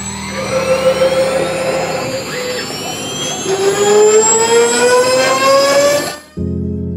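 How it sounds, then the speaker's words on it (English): CNC router cutting a 3D relief into a piece of recycled oak, a loud, steady high whine with rising spindle tones and a roaring hiss that cuts off sharply near the end, leaving a low hum. "I'll just cut a section off this and put it on the CNC router"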